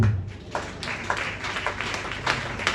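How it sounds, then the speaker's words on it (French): A church congregation applauding, with a steady patter of clapping hands filling a short stretch at moderate volume. "Est-ce qu'on peut applaudir le Seigneur?"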